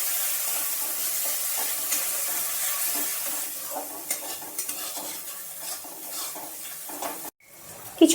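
Chicken pieces coated in red chili powder and Kashmiri chili powder being stirred and sautéed in a pan for a Bengali chicken curry, with a steady close sizzle and scraping spoon strokes throughout, no talking.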